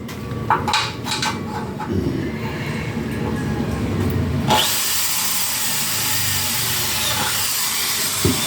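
Power drill driving 10 x 1.5 screws into a thick aluminum bracket for a large mullion frame: a few sharp clicks and taps first, then a loud, steady whirring drill that runs without a break to the end.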